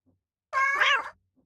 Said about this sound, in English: Pet that cat.